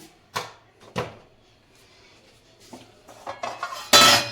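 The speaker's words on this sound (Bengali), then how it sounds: "এবার আমি এটাকে পুরো পেস্ট করে নেব এই দেখো আমার মূলোটা পুরো একদম পেস্ট হয়ে গেছে" A spoon mashes radish into a paste in a bowl, giving a few sharp scraping clinks spaced apart, then a cluster of quicker clatters at the end, close and clear.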